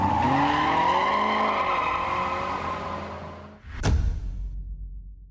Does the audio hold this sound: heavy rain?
no